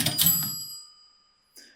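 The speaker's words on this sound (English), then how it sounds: "here's a cash register sound that someone generated" A generated cash register sound effect: a bright ringing chime that decays over about a second, followed by a brief faint click, heard alone.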